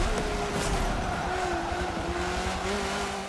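A race car in Forza Motorsport 7 drives through the rain with a steady engine drone whose pitch climbs slowly and shifts through gears, wrapped in a broad hiss of spray and rainfall, close and continuous.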